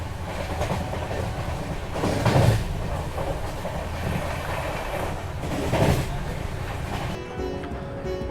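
Long-distance Duronto passenger train in India running on the rails near Kozhikode: a steady, loud rumble heard from inside the coach, with rhythmic clickety-clack wheel beats recurring every few seconds.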